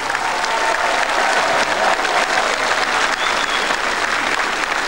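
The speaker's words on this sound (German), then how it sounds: "Einen riesigen Applaus." Large audience at a televised German folk music show in Potsdam giving loud, sustained applause, a dense, even roar of clapping with no talk over it.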